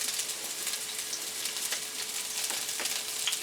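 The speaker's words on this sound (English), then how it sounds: "we're just going to throw them in there and get them sizzling" Large chunks of onion sizzle in a hot pan, a steady bright crackling hiss with scattered pops, close and continuous, with no voices over it.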